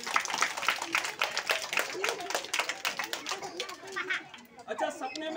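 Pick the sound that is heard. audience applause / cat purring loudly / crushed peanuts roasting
audience applause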